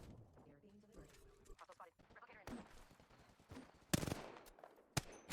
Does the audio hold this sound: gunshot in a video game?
yes